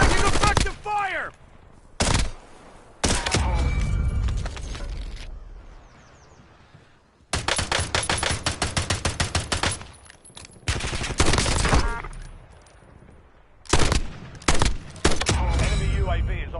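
Call of Duty video game gunfire in bursts: loud automatic weapon volleys and single shots separated by short quiet gaps, with dense rapid firing in the middle and later stretches, close and sharp.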